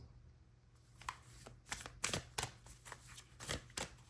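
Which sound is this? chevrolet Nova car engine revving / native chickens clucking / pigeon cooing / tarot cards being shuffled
tarot cards being shuffled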